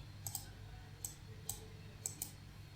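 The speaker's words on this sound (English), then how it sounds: "Click on search" Sharp mouse clicks while navigating a NuGet package search in Visual Studio, about five single and double clicks spread irregularly over a low steady hum, close and fairly quiet.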